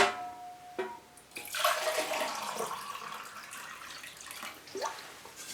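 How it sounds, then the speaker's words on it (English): Water is poured over the base and roots of an orchid, starting with a few drips and small knocks, then a sustained splashing trickle that thins out and returns in a brief final gush, with no talk. "I'm going to pour that over the base of the plant and the roots so that they're wet"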